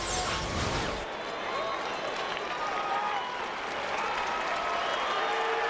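Baseball stadium crowd at a Rockies–Diamondbacks game cheering behind the pitcher, a loud sustained roar with a broadband burst at the start that settles into steady crowd noise with faint voices mixed in.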